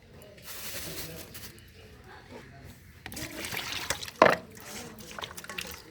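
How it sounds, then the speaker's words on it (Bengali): A big rohu fish being washed in water: soft trickles and light splashes, then one sharp splatter, with quieter dribbling afterward and faint room murmur. "মাছটা ধুয়ে নেব ভালো করে"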